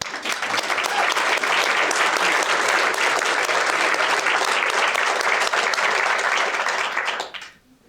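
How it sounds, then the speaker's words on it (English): Sustained audience applause at a Keep Knoxville Beautiful sustainability summit in Knoxville, a dense, steady wash of many hands clapping for about seven seconds before fading out abruptly. "please stand up and let us give you a round of applause for being here"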